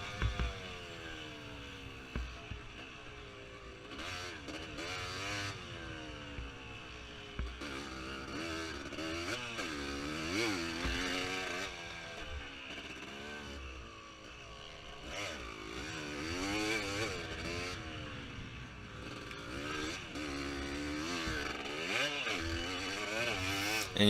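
A motocross bike lugs at low revs through a race at Kahoka MX, its engine note rising and falling in wavering pitch sweeps, loud and continuous throughout.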